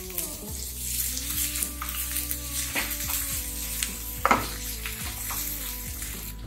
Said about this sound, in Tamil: அதையும் போட்டு நல்லா வதக்கிக்கலாம்.